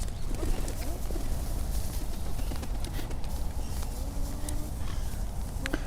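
Pigeons feeding on bread outdoors in rain, with soft cooing and scattered bird calls over a steady wash of rain and ambient noise, plus faint footsteps; no speech.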